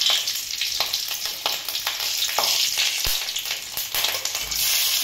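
Green chilies sizzle and crackle in hot oil for tempering a drumstick leaf and moong dal dish, a close steady fry with scattered sharp pops and stirring.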